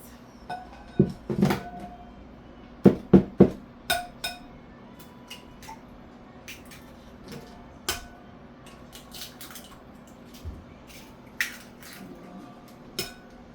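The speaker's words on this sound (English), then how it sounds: "let me crack these eggs" Eggs cracked one after another against a still-hot pan for a spinach quiche with ham and three cheeses, a series of sharp close taps and clinks spaced across a quiet kitchen.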